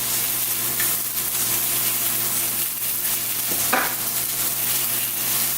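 Walrus meat sizzles steadily as it browns in a frying pan, a constant close crackle with a brief sharper hiss near the end and no talking.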